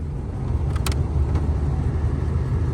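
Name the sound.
car air conditioning blower running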